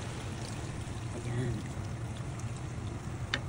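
Water poured into a pot of pork dinuguan, a steady rushing stream under a brief spoken word in the kitchen, moderately loud and close.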